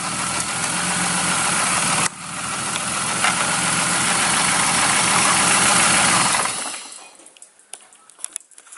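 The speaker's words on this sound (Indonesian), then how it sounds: "sementara akan saya matikan mesinnya" A BMW E36 engine idles loudly and steadily at close range with a rough, even drone, then is switched off around six and a half seconds in, leaving a few faint clicks and ticks in the quiet.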